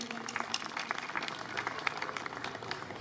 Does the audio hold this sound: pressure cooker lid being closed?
no